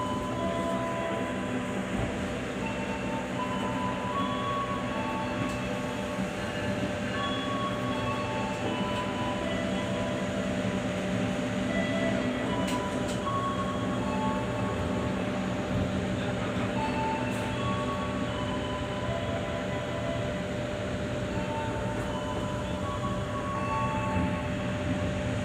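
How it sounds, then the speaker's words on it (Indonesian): An extra PSE-SMC passenger train pulled by a CC206 locomotive rolls out of Cirebon Prujakan station, a steady loud rumble of wheels and carriages heard from inside with faint squeals and clanks throughout. "perjalanan aku naik kereta api tambahan PSE SMC telah diberangkatkan dari stasiun Cirebon Prujakan"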